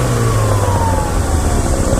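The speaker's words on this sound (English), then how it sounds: "Go ahead and rev it up a little bit, Tim." A 1978 Lotus Eclat Sprint, a British classic with a rebuilt engine, revs steadily and loudly up close, a continuous dense engine drone with no one speaking.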